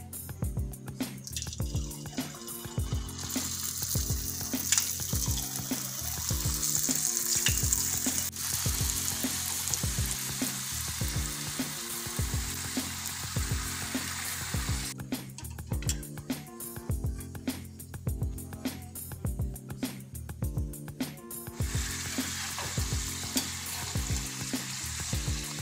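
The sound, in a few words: deep frying palak papadi snacks in hot oil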